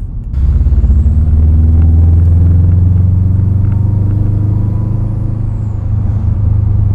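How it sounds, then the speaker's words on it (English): A loud car, likely a Subaru WRX, rumbles steadily and close by with a heavy low-pitched drone lasting several seconds, alone without talk. "That car was obnoxiously loud."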